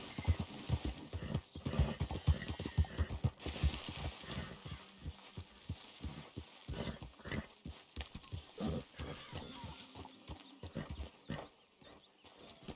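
Horse hooves clip-clop steadily on the ground in Red Dead Redemption 2, close and fairly loud at first, then lighter and more scattered, with an occasional faint whinny-like tone mixed in.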